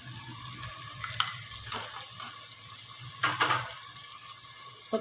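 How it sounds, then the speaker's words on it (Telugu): Tomato and turmeric stirred together in a hot pan, a steady low sizzle with wet scraping strokes and a couple of brighter clatters from the spoon against the metal, no voices. "ఒకసారి కలుపుకుందాము"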